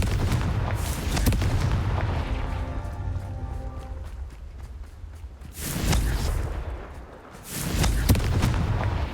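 Confringo spell explosions in the video game Hogwarts Legacy make loud, rumbling booms and blasts. They run almost continuously for about nine seconds, easing briefly between heavier bursts.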